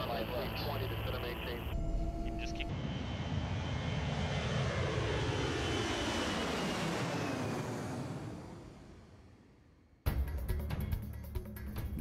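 An aircraft flies low over Manhattan in New York City, a steady loud engine roar that swells and then fades as it passes, followed by a quieter stretch.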